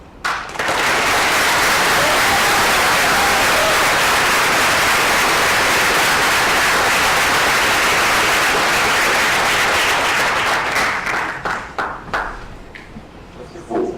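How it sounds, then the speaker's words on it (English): Loud, sustained applause fills a student government senate meeting room for the candidates, a thick unbroken roar of clapping that thins and tapers toward the end. "Let's get one more round of applause for all of the candidates"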